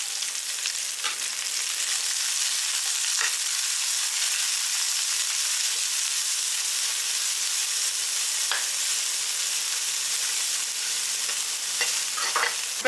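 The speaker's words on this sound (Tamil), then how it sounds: "இப்போ வாழைப்பூ இதிலே போட்டு வதக்கிக்கலாம்" Chopped banana flower sautés in a pan with a steady, close sizzling hiss, broken by a few brief scrapes of stirring, and no talking.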